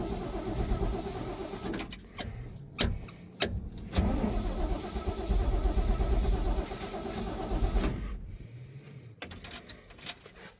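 A 1971 Chevrolet C20 engine cranks with the starter, stumbling in uneven bursts, then briefly catches and runs rough before more clicks and cranking, heard close up with a few sharp mechanical clatters.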